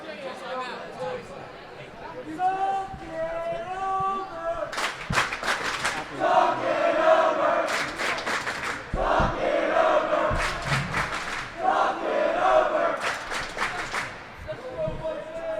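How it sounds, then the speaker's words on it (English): Student crowd chanting at a girls volleyball district playoff game during a timeout, rhythmic shouted chant lines punctuated by bursts of unison claps and stomps, repeating in waves over a gymnasium hubbub. "Get ready for the crowd chant."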